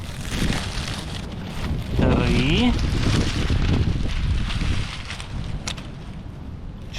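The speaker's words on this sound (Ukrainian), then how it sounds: "це сьогодні такий вітер" Strong spring wind blusters across the microphone outdoors during a mushroom hunt in the woods, a steady rough rumble throughout while someone speaks briefly.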